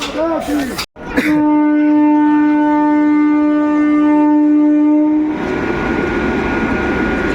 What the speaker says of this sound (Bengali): কাশিমবাজার রেল স্টেশনে দেখতে পাচ্ছেন ট্রেন ধীরে ধীরে সামনের দিকে এগিয়ে যাচ্ছে